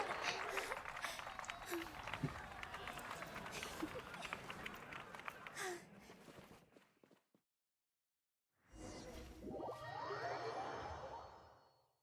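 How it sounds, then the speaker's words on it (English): A group of guards in Genshin Impact dashes past in a dense rush of rapid footsteps. The rush cuts off into a couple of seconds of silence, then other busy game sounds follow. "It sounds like a lot of guards just ran by"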